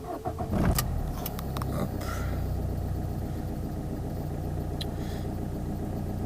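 The 1.3 JTD diesel engine of a Fiat 500 cranks briefly and catches, then settles into a steady, fairly quiet diesel idle heard up close.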